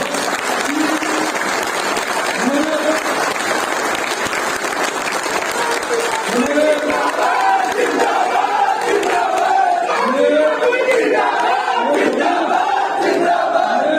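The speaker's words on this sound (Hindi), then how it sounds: "एक बार इतनी जोरदार तालियां बजाओ" A crowd at a BJP political rally in Rajasthan claps loudly and continuously, with many voices shouting and cheering over the dense applause throughout.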